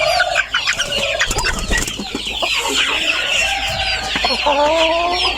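Chickens cluck and call on a poultry farm, young birds being moved onto a lower-protein feed, with continuous overlapping clucks and squawks close by and a crow-like call rising near the end.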